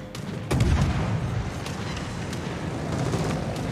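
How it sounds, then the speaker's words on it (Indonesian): Naval cannon fire in World of Warships as a ship attacks a Japanese aircraft carrier: a loud boom opens the clip, then a dense, rumbling barrage of shots continues steadily underneath. "Diserang langsung aja langsung pakai meriam"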